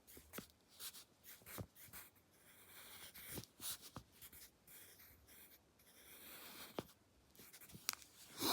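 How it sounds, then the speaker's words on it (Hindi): A pen scratches across paper while writing Urdu calligraphy, with faint, close, irregular strokes and short scrapes broken by brief pauses, no speech. "बिस्मिल्लाह लिखते हैं पहले"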